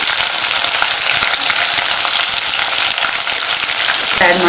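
Sliced onions sizzle loudly in hot oil in a pan for potato palya, a continuous crackling fry with occasional stirring scrapes, close and with no talking.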